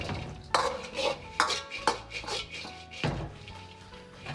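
Fried lotus root strips tossed in a wok with chili oil, minced garlic and red chili powder, making a metal spatula clatter and scrape with several sharp knocks over a low background.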